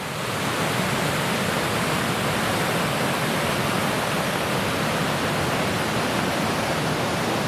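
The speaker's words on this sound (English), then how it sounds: "Guess that's still Roaring River." The loud, unbroken whitewater roar of Roaring River, its rushing water filling the air evenly from start to finish beside a wooded trail, with no one talking.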